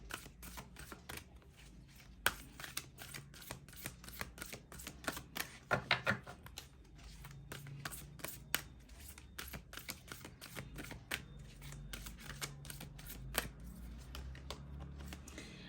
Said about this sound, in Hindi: चलिए एक और कार्ड निकालते हैं।